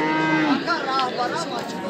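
A cow at a livestock market in Chilikul, Khatlon, lets out a close, loud moo that rises and falls over about two seconds, with faint market chatter in the background.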